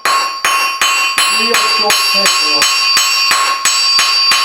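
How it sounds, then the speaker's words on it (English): Hot steel is worked with the flat face of a hammer to forge a short taper. About a dozen bright, ringing anvil strikes come in a fast, steady rhythm, loud and close. "We're going to use the flat face of the hammer."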